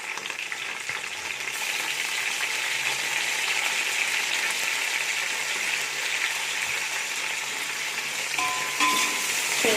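Onions with mint and coriander sizzle steadily in a hot pan for a mutton biryani, a close, continuous frying hiss with faint stirring and no talk.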